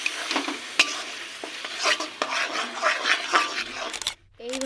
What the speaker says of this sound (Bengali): এইভাবে পেস্টটাকে একটু নেড়ে নিতে হবে চারিদিকে